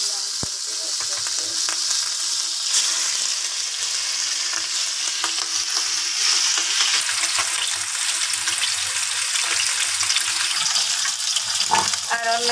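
Hilsa fish rubbed with turmeric and salt sizzles steadily in a frying pan on the stove, a loud continuous crackling hiss with occasional stirring clatter, no voices over it.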